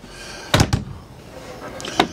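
Trifold cabinet doors in the master suite of a 2016 Lifestyle Luxury 38RS fifth-wheel RV are handled, giving two quick close knocks and clacks, then a softer pair of clicks a moment later.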